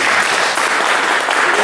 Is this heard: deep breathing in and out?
no